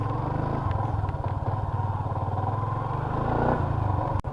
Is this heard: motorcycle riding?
yes